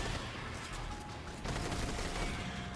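Breakneck auto rifle firing continuously in Destiny 2, a dense, steady stream of gunfire at close range with a brief shift in intensity partway through, no talking over it.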